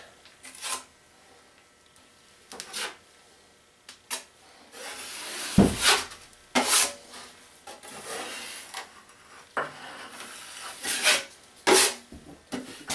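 A knife spreads a drywall joint compound skim coat, giving intermittent scraping and rasping strokes, each short and close, separated by quiet pauses.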